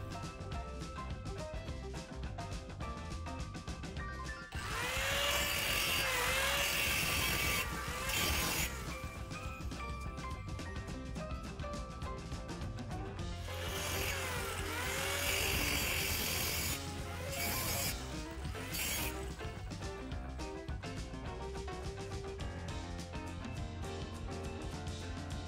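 An angle grinder with a cut-off wheel slices through metal while a caliper is being made, two long loud whining cuts with harsh scraping, over steady music in the background.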